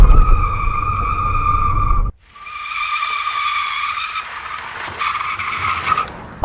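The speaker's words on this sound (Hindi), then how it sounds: "क्रेटा इलेक्ट्रिक पवाल एक्सेलरेशन सुनना चाहते हो," Hyundai Creta Electric, a 171 hp, 255 Nm electric SUV, launching hard with loud tyre squeal and wheel spin, a sustained screech that cuts briefly and returns, close and loud with no engine roar.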